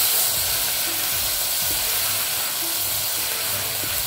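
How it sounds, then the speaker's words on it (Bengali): Bengali mustard-fish curry base: mustard, chili and onion pastes hitting fried onions in hot oil, giving a loud, steady sizzle and hiss that runs unbroken throughout with no voices. "পেঁয়াজটা ভালো করে ভাজা হয়ে গেছে, এখন আমি মশলাটা দিয়ে দিব।"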